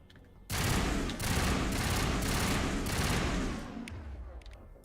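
Striker assault rifle firing in the video game Mass Effect, a loud sustained burst of rapid gunfire lasting about three seconds with brief breaks, then fading into quieter game ambience.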